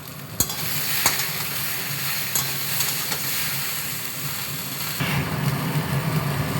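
Potato, green banana and other vegetables for Bengali shukto fry in hot oil as radhuni paste and ginger paste go in, giving a steady loud sizzle with a few sharp clinks of a utensil against the pan.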